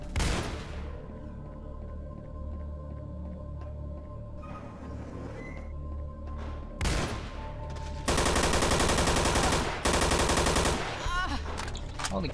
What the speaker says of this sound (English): Oh, nope, because people are shooting.